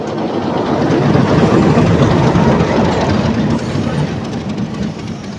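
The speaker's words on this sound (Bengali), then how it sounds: "ট্রেনটা কিন্তু অলরেডি চলে আসছে" A crowded local train pulls into the platform at Parbatipur station on the Dinajpur–Badarganj route, its loud, steady rumble and wheel clatter swelling, then easing slightly near the end.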